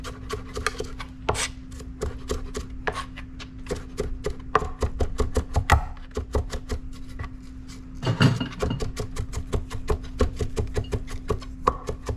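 Ginger is sliced into matchsticks with a knife on a cutting board, producing rapid, evenly spaced sharp taps in steady bursts, close and crisp, with a low hum beneath and no talking.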